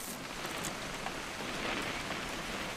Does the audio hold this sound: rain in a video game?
yes